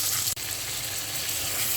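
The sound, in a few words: rohu fish frying in a pan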